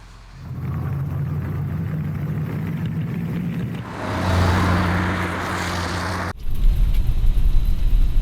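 A car drives along a road with a steady low engine rumble and road noise from inside the cabin, rising briefly midway before an abrupt change to louder, rougher rumbling near the end.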